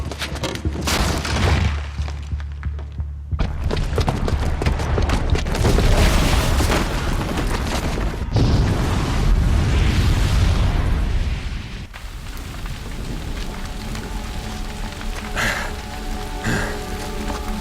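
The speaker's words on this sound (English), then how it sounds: "the booby trap on the bomb downstairs is gonna get set off" A bomb booby trap detonates in the Horizon Zero Dawn video game, with a loud, sustained rumbling explosion and crackling debris that roar for several seconds, then settle into a lower continuous rumble with scattered clatter.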